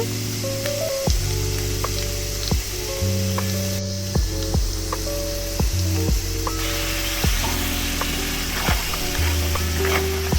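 Onions and ginger-garlic paste fry in a kadai used earlier for fish, giving a continuous loud sizzle with repeated ladle knocks and scrapes against the pan at irregular intervals, no speech.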